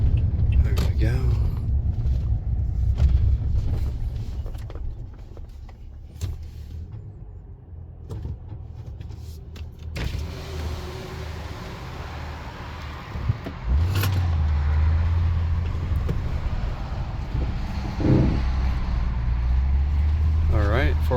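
A lifted 2021 Toyota Tundra 4x4 rolling slowly through a parking lot in four-wheel drive, with a steady low engine and drivetrain rumble inside the cab and occasional shifts in pitch as it moves and turns.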